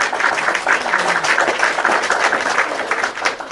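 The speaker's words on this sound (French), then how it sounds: "On applaudit." An audience at a live show gives steady applause, a dense clatter of many hands that holds at an even, fairly loud level throughout, with no voices on top.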